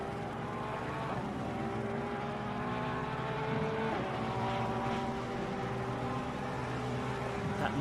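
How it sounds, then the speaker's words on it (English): A steady engine drone from the broadcast camera helicopter above a Nürburgring race in Assetto Corsa Competizione, loud and continuous, with shifting tonal whines from the race cars and no voices. "It could be the helicopter making the noise that you think."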